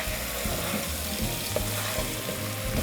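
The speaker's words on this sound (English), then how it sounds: "So let's mix this." Potatoes coated in pilau masala are stirred in a pot for a Swahili pilau, giving a steady close sizzle with soft scraping strokes recurring through the few seconds and no talk.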